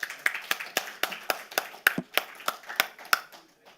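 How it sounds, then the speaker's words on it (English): Applause for the final panel at a mining investment conference in Hong Kong, a sparse, uneven run of sharp claps, few enough to suggest a small audience, close and clear with no talk. "But can I have a round of applause for our final panel of the day?"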